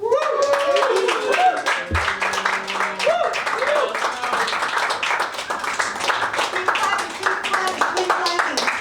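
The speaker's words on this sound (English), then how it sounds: "Keep clapping, keep clapping, keep clapping." A comedy club audience claps steadily for a stand-up comedian walking onstage, the rapid, dense applause continuing throughout while an amplified voice talks over it.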